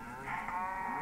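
Cows mooing in the Minecraft video game: a steady, loud, tonal bovine low drone from several animals overlapping, sustained without a break for about a second.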